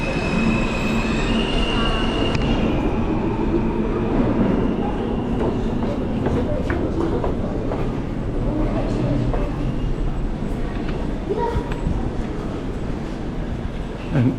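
New York City subway train rumbling and rattling through the tunnel at steady loudness, with wheel squeal and clatter layered over a continuous low roar throughout.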